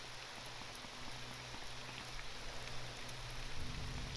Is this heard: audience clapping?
no